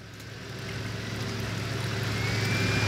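Off-road 4x4 stuck in extreme mud with its engine revving, a loud, steady droning roar that builds slightly over a few seconds.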